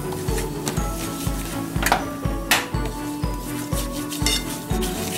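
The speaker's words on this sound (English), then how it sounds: "You want to whisk in the flour, incorporate it until it starts smelling like a pie crust." Flour being whisked into sauce in a pan on the stove, heard as steady, rhythmic scraping and tapping strokes about twice a second, close by, with a few sharper clinks of the whisk against the pan.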